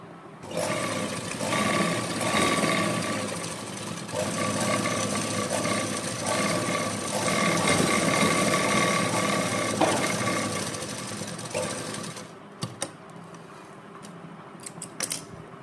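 Sewing machine running continuously as it stitches a scroll design on a garment between lace pieces, a dense steady mechanical whir for about twelve seconds, then stopping, followed by a few clicks and handling sounds.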